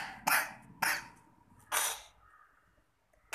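Three sharp coughs spaced out, loud and close, followed by a quieter stretch with a faint tone and a final abrupt cough-like burst.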